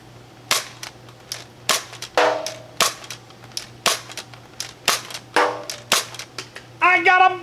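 An Adventure Force Desperado toy blaster fires repeatedly at bottles, each shot a sharp, close cap-gun-like crack with a short rattling tail, arriving in a steady rhythm of roughly one per second, with a faint steady hum underneath.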